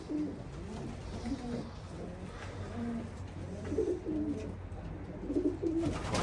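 Racing pigeons coo again and again in soft, throaty, rolling phrases close by, with a faint background hiss behind them.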